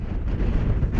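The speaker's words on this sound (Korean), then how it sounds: "바람 때문에 더 이상 갈 수가 없겠는걸요?" Strong wind buffets the microphone high on Mount Fuji, a loud continuous low roar that rumbles steadily throughout with no voices.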